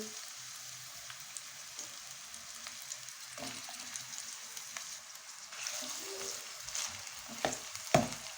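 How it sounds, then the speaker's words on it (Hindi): Chopped onions fry in about half a cup of oil for maash daal, a soft, steady sizzle with light stirring scrapes and a few clicks, fairly quiet and close. "अब इसमें कटी हुई प्याज डालेंगे"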